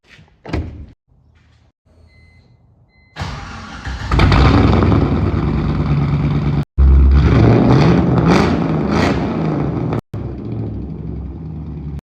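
A drift car's engine is cranked and started after its coil pack is reconnected, opening with door and clunking sounds, then catching into a loud idle and repeated revving up close.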